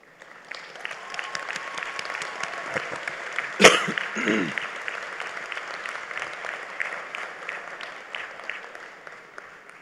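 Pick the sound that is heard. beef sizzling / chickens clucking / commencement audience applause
commencement audience applause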